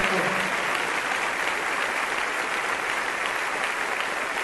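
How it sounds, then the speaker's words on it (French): Church congregation at a Bible study in La Colina, Bogotá, applauding loudly and steadily, a continuous wash of clapping from many hands with no break. "Un fort applaudissement"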